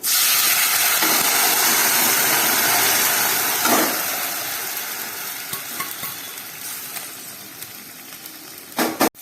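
Potatoes drop into hot oil tempered with chopped ginger, giving a loud, steady sizzle and hiss that slowly fades, then a few stirring scrapes near the end.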